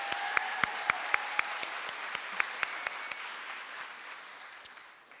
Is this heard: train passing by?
no